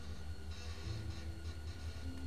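A train rumbles along steadily in The Walking Dead: Season 1 video game, a continuous low mechanical drone with faint rhythmic clatter throughout, loud and close, with no voices.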